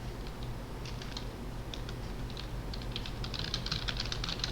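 Quiet, rapid clicking as code is typed on a computer keyboard during Unity game development on Linux. The keystrokes come in uneven flurries and grow busier toward the end.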